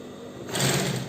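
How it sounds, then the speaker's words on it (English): A sewing machine stitches a fabric drawstring bag, its motor whirring up to a quick, steady run after a brief quiet start. The sound is close and alone. "Then we'll continue sewing."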